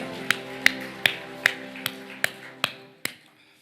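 A church congregation at a festival worship service claps in a steady beat for God, eight sharp, evenly spaced claps ringing over sustained music chords.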